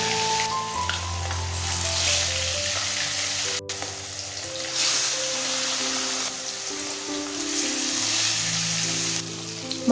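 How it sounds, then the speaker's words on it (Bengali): Pieces of rohu fish sizzle and crackle steadily in hot oil in a kadai, a loud, continuous frying hiss with scattered pops and occasional stirring. "এবার এর মধ্যে একে একে মাছগুলো ভেজে নেব"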